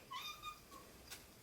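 A cat lets out a faint, drawn-out meow followed by a softer short mew, heard quietly and alone.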